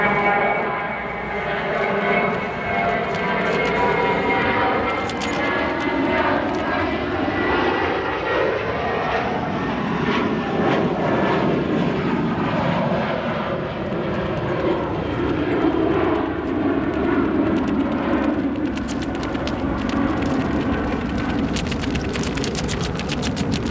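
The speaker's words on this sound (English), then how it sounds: "Working a little bit of aerodynamic braking, keeping the nose up on that 787 for a few seconds there." A Boeing 787 roars loudly and steadily through its landing at O'Hare, engines thundering without break as it holds its nose up for aerodynamic braking, with a brief rise in crackling rumble near the end.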